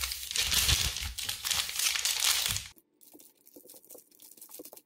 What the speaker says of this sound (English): Now it's as simple as putting our corn cobs in the bag and sealing the other end.